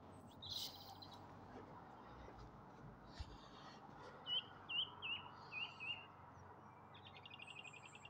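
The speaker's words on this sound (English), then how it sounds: "I think the birds in the background just set it off nicely" Small birds chirping and calling in an evening garden among perennial borders, a short run of bright, repeated tweets near the middle over a steady outdoor hum, with faint twittering toward the end.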